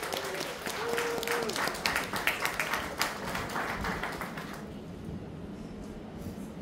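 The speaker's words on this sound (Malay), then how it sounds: "Tepukan gemuruh kepada RCCA AS dan RCCA MUN" Loud applause from an audience at a success-story event: many hands clapping in a dense, rolling burst that thins and fades toward the end, with a voice briefly heard under it.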